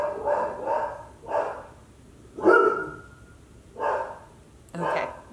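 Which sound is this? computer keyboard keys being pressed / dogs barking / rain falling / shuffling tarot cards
dogs barking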